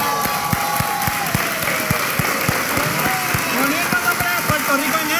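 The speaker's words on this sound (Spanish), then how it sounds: "Estas muchachas merecen un aplauso" Standing applause from an audience for a group of young women at a party event, steady dense clapping throughout with a regular low thumping beat underneath and some voices mixed in.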